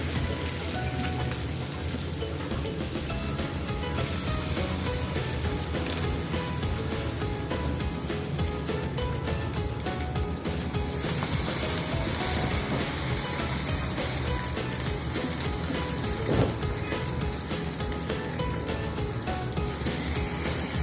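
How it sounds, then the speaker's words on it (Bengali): Bread slices dipped in batter fry for French toast in a pan with a little oil or ghee, giving a steady, close, rain-like sizzle and spatter that runs continuously throughout. "আমি বাকি ব্রেডগুলোকে ব্যাটারে ডিপ করে ভেজে নেব"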